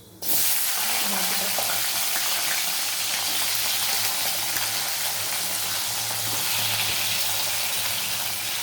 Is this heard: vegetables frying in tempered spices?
yes